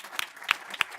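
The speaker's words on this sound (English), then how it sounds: "would you give a stand up and we'll clap for you too" Three distinct, spaced hand claps ring out close by at an award reception, sharp and isolated over a faint background.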